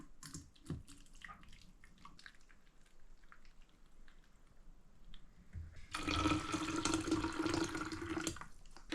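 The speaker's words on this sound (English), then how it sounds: "May not look nice putting chicken noodle water into your water bottle, but it's warm." Warm chicken noodle broth water pours into a water bottle at a -8° winter camp in a survival shelter, a loud, steady gush of liquid that begins partway through after quieter handling noises.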